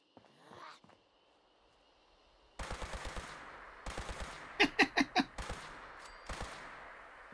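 Gunfire from a newly acquired gun in Fallout 76 rings out in sharp, rapid bursts of several shots each, separated by short pauses, heard at a moderate distance after a quiet start.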